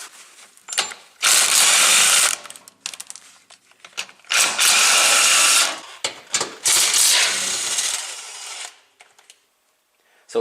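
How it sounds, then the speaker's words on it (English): Ratchet work on the 13mm bolts holding an aluminum underbody panel on a C8 Corvette, heard as three long, loud bursts of rapid clicking with short knocks and tool handling between them, close up and without talk. "all I have to do now is just remove the 2 13mm bolts that are on both sides"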